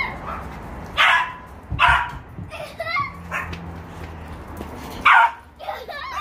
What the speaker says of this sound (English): That's him barking at you,